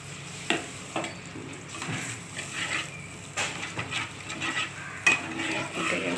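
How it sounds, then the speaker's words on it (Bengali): Fish pieces in a simmering curry in a pan, with a soft bubbling and sizzle broken by several distinct spoon scrapes and knocks against the pan, no speech. "মাছের ঝোল মাছটা দিয়ে দিলাম"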